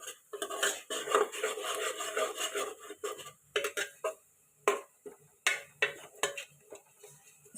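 A spoon stirs turmeric and masala into Gujarati vaghareli khichdi in a metal pot, giving rapid clattering scrapes against the sides, followed by sparser, sharper knocks and taps with quiet pauses between them.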